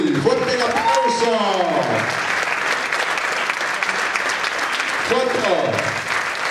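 A crowd at a 2019 dance gala applauds loudly for young acrobatics dancers, a thick, sustained roar of clapping while an announcer's amplified voice speaks over it at the start and again near the end.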